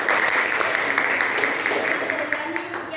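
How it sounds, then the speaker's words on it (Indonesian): Students in a classroom applaud a group after its presentation, a full, steady burst of many hands clapping at once with some voices underneath, close and loud throughout. "Tepuk tangan untuk kelompok 2"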